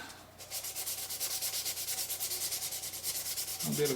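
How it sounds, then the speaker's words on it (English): 800 grit sandpaper rubbed back and forth over the frets of a Gibson SG Standard guitar, a steady rhythmic rasping swish of fast even strokes, close up, with a faint tonal ring near the end. "Now I'm going to take a bit of 800 grit sandpaper. Just give the frets a bit of a"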